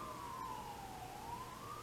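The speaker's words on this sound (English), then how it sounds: "There's actually sirens now." A police siren wails outside in a town, its steady tone sliding slowly down and back up, faint and distant beneath a low background hum.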